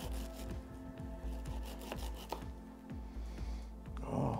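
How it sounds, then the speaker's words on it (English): Wheatgrass blades being cut by hand outdoors, giving a steady rhythmic series of soft rasping, slicing strokes roughly every half second, close and moderately quiet, with no talk. "We're cutting wheatgrass today."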